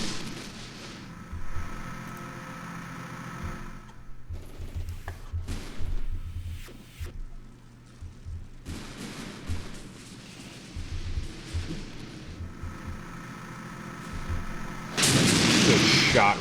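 Gunfire and artillery in the war strategy game Armored Brigade sound as repeated sharp booms and cracks in uneven bursts, some loud and close, others distant, over a low rumbling background.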